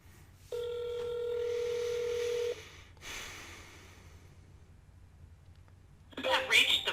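An auto-dialer places a telephone call: a steady electronic dial tone for about two seconds, then quiet line noise and breaths, with a brief burst of tones and clatter near the end.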